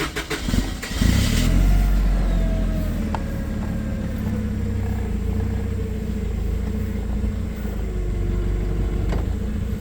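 A Cesab M315G gas-powered compact forklift runs nearby with a steady, loud engine drone as its carriage rises on free lift, with a hydraulic whine gliding through the hum and a few faint clicks.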